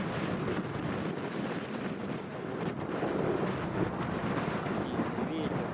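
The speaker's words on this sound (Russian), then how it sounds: "Вот, ребят, ветер очень сильный." Strong wind gusts over a garden of large-leaved tobacco plants, a rumbling, uneven low buffeting against the microphone with rustling, moderately faint overall.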